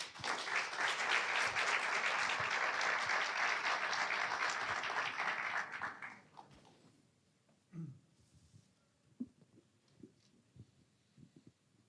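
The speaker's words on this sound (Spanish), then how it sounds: "Démosle la bienvenida con un caluroso aplauso." Audience applause welcoming a speaker at a talk on Pope Francis and young people, dense clapping for about six seconds that fades out, followed by quiet room noise and a few faint knocks.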